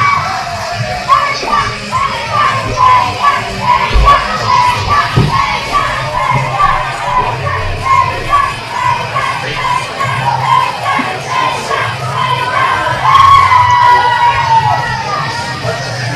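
The crowd at an amateur wrestling show cheers and shouts as a favourite wrestler comes out to the ring. A dense, steady roar of voices, including high-pitched children's yells, carries on throughout and swells slightly toward the end.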